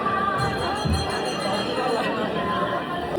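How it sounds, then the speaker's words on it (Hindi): A large crowd of pilgrims queues at Vaishno Devi, a steady dense babble of many voices and chatter filling the space continuously, close and loud throughout. "भीड़ चेक करो गाइस, बहुत भीड़ है।"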